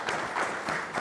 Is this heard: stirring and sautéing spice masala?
no